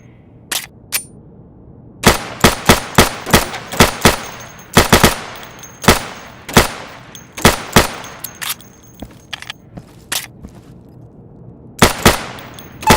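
Rapid gunshots crack in quick pairs and bursts during target practice in the Insurgency training course, loud and close, with short pauses between volleys and no talking.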